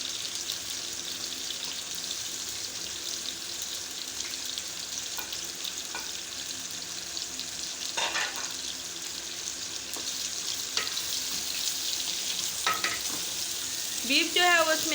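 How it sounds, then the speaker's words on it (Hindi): Onions fry with beef in a pan for a bean and beef curry, a continuous soft sizzle with occasional clinks and stirring scrapes, and a brief high squeak near the end. "प्याज फ्राई हो रहा है, इसके साथ साथ जो है हम बीफ का इस्तेमाल भी करेंगे"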